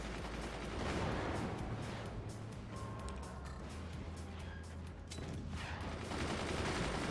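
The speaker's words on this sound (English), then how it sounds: "Warthog cannons penetrating everything, because that's what they do." Warthog cannons fire in the Forts RTS game, a dense, continuous barrage of gunfire-like blasts and rumble that stays steady and loud throughout.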